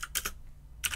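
Keystrokes on a computer keyboard while a command is entered in a Ubuntu terminal: two quick bursts of crisp clicking taps close up, separated by a short pause, alone without talk.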